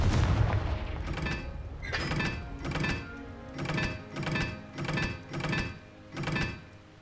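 Confringo fire spells explode repeatedly in the video game Hogwarts Legacy, a series of about seven heavy booming blasts at a regular rhythm, each with a short crackling tail.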